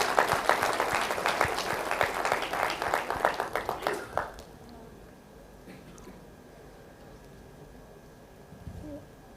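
Audience applause at FICCI's annual general meeting and convention, honoring the organizing team: a burst of brisk, fairly loud clapping from a large hall that fades out after about four seconds, leaving quiet room tone.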